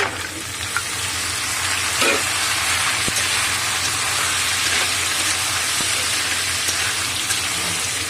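Jackfruit seeds and cut potatoes hit hot oil in a pan after ginger and garlic have cooked, a loud continuous sizzle and crackle with occasional stirring clicks.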